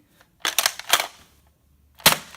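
Toy blaster firing, a few sharp snapping clicks in a quick cluster followed by one more crisp shot after a short pause, close and fairly loud in a quiet room.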